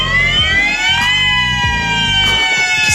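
An emergency siren wails steadily and loudly with a rising, sustained tone, accompanied by a low rhythmic engine rumble underneath, with no talking.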